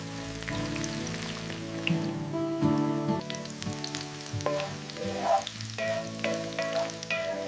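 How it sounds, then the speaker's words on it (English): Fragrant leeks frying in a hot pan for braised tofu and vegetables, a loud steady sizzle with crackling spatters and occasional stirring clatter, close up and uninterrupted. "Frying the fragrant leeks."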